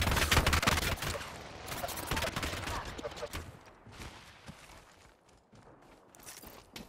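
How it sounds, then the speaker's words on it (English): Rapid bursts of gunfire crackle in an Apex Legends firefight, loud at first and thinning into scattered shots with some footsteps, the firing gradually fading over several seconds. "Getting shot at!"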